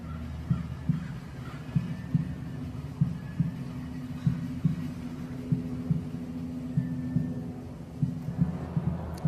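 A heartbeat sound effect in an art film: steady, muffled low thumps repeating at a regular pace over a dull background hum.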